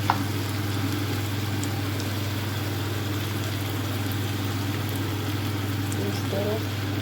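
Egg frying in a pan with softened tomatoes and potatoes gives a steady, close sizzle that holds level throughout, with no break or pause.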